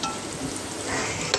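Onions and green chilies fry in a pan for chicken fry piece biryani, a dense, even sizzle heard close up, with one brief tap near the end and no voices.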